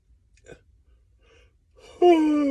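A long, drawn-out yawn with a rising then falling voiced tone, preceded by a faint breath; close and fairly loud.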